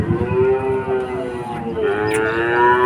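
Young bull calves moo at Chuknagar cattle market in a single long, loud, close bellow that fills the clip, with no talk over it.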